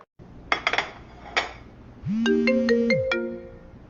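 A phone ringtone plays a short rising electronic melody, loud and close, after a few light clinks of dishes or cutlery, with no talk.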